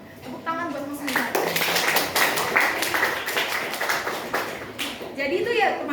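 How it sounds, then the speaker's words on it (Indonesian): A classroom group claps for a student named Haidar in a burst of applause, with a voice speaking just before and children's voices near the end. "Tepuk tangan buat Mas Haidar."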